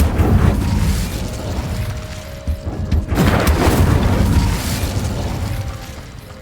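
Fire spell cast in the Hogwarts Legacy video game, loud whooshing bursts with a heavy booming surge midway, blending into mechanical clatter and continuous game noise.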